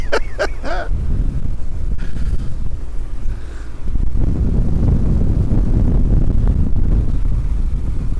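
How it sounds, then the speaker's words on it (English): Strong wind buffeting the microphone out on the water on a boat, a continuous low rumbling roar with gusts, loud and close, with a brief voice at the start. "it's quite windy out here now"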